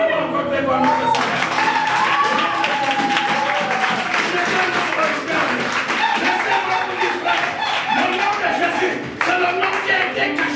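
A church congregation applauds loudly and continuously, dense clapping mixed with cheering and shouting voices filling the room for the whole stretch.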